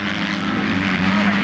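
A KTM motocross bike engine revving hard under acceleration on an Irish MX2 race track, a loud, steady droning whine held at close range throughout.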